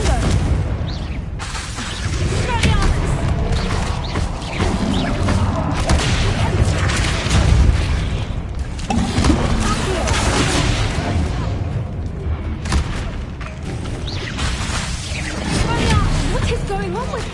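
A Confringo blasting spell goes off in Hogwarts Legacy, a loud, dense wall of explosive booms and crashing impacts that continues for the full length, with no let-up.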